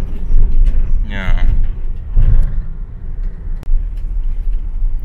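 Car driving along a road, a steady low engine and tyre rumble with road noise throughout, under voices talking inside the vehicle.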